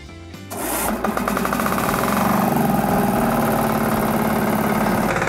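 A Firman FTL cultivator's small engine starts and settles into a loud, steady, rattling run close by, its mechanical chatter continuous with no talk over it.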